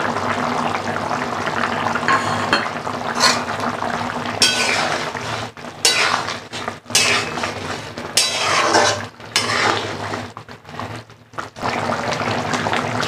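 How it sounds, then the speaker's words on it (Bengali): Amul butter goes into a hot pan and fries with a steady sizzle and crackle, broken by bursts of louder spattering and stirring clatter from the pan. "একটু আমুল বাটার দিয়ে দিলাম।"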